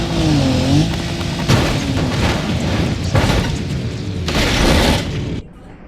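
A Land Rover Defender tearing along at high speed in the BeamNG.drive driving game: a loud, continuous roar close up, broken by several heavy booming thuds, then dropping off sharply at the end. No voices.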